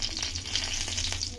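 A bay leaf sizzling in hot oil left from frying eggplant, a steady, fairly soft crackling fry with fine spitting textures and no voice over it.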